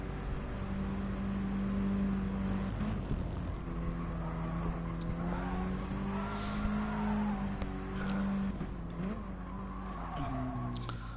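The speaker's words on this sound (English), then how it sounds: "can see Sparks take a lap of Maggiore from his roof cam." A Mini Cooper race car in GT Sport laps the Lago Maggiore circuit, heard from a roof camera: a steady engine drone that rises and falls with gear changes and throttle, continuous and fairly close.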